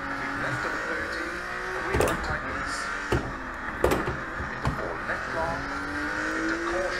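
A Porsche SC RS rally car in the Dirt 2.0 racing game, driven on a Spain Centenera stage, holds a steady, loud engine drone through changing revs, broken by sharp gear-shift cracks and brief tire noise.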